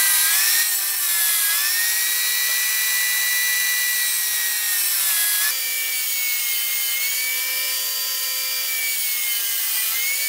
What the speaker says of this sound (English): Now I'm just cutting all my strips down to a 9-degree angle.